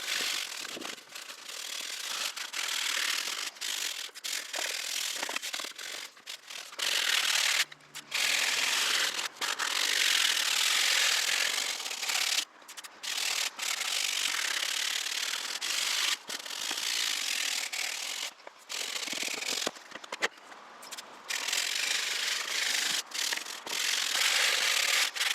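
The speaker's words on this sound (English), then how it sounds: "I'm going to speed up this section while I work the leather cleaner into the rest of the seat." Steady rubbing and scrubbing as leather cleaner is worked into a BMW leather car seat, a continuous close scratchy friction with brief pauses throughout, no voices.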